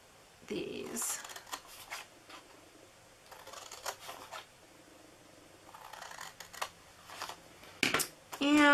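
Paper being cut for a Christmas sleigh ride card box, with short crisp scissor snips and rustling scattered across the clip, near and moderate, mixed with soft handling noises.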